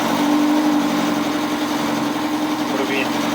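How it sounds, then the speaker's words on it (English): A failing boat engine drones steadily at close range as the vessel pushes through a tidal pass at night, the low mechanical hum running continuously with a faint tonal whine. "We're just coming through the pass with the tide against us and the engine is dying."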